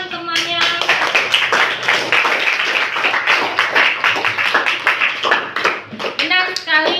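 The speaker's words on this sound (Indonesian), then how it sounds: "kasih tepuk tangan temannya" Classmates in a school classroom clap together in a quick, steady burst that runs for several seconds, with voices heard briefly before and after.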